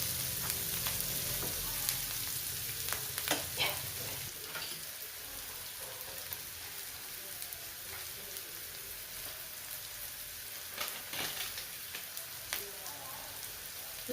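Curry leaves fry in hot oil with a continuous crackling sizzle and scattered sharp pops, fairly close and moderately loud, with no voice over it.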